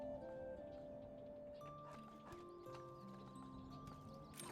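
Horse hooves clip-clopping with a whinny in the medieval village-building game Manor Lords, steady hoof beats over continuous game ambience and tonal music throughout.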